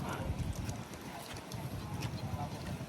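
Steady wind buffeting the microphone on the Montemaria glass walk in Batangas City, a low rumbling roar, continuous and fairly quiet throughout.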